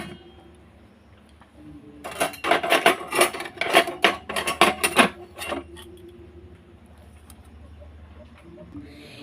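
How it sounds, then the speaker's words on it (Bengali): A metal plate being set down inside a preheated kadai for baking sesame-peanut biscuits, a flurry of close metallic clinks, scrapes and rattles lasting a few seconds before fading to a quiet hum. "গরম করে নিয়ে এবার আমি থালাটাকে ভিতরে বসিয়ে দেবো।"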